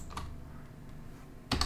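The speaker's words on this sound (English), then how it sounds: "And then hit G at keyboard, or I can hit R to straighten it out as well." A computer keyboard is used while UV texturing in Maya, giving two sharp, close key clicks: a lighter one near the start and a louder double tap at the end, with quiet room tone between.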